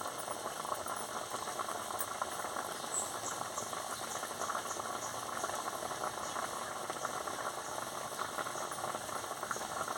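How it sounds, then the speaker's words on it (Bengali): A pot of sour mrigal fish curry bubbling and simmering steadily, a continuous soft crackle and burble with no voices, close by and even in level throughout. "দেখুন টকবক করে ফুটছে কি সুন্দর।"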